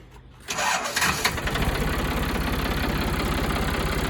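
A tractor engine cranks and catches after a quiet start, then settles into a steady, close, rumbling idle with a rapid low chug.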